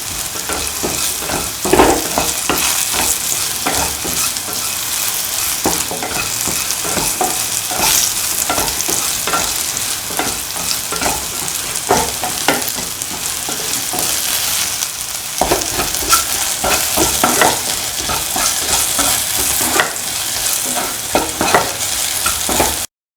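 Salted yam and potato stew gets stirred and mixed in a pot, with a continuous loud sizzle and repeated scraping strokes of a spoon over a long stretch.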